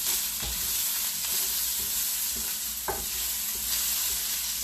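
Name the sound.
corn and onions sizzling in copper skillet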